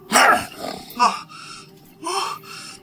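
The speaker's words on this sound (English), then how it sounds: "You see that each of them barks" Enormous fantasy warhounds with glowing, slavering drool bark in a few loud, close bursts, a big first bark followed by shorter barks and growly yips with gaps between.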